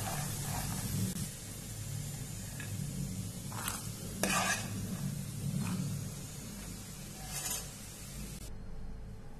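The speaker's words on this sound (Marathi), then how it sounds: "आता आपल्या हे बाउल मध्ये काढायचं आहे" Crispy roasted chickpeas are scooped out of a pan into a bowl with a steady soft sizzle underneath, while a spoon scrapes and clinks against the metal in several distinct strokes. No one speaks.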